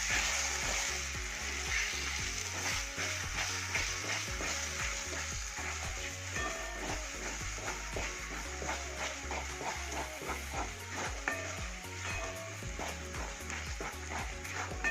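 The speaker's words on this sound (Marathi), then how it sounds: "तर आपण आता हे मस्तपैकी हलवून घेऊया." Masala with a spoonful of red chilli powder sizzles loudly in a pan for a Saoji mutton curry, with steady frying crackle and repeated scraping stir strokes throughout, close and without talk.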